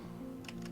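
Quick keystrokes on a computer keyboard, a few light clicks in a short burst, close and fairly quiet with no talking.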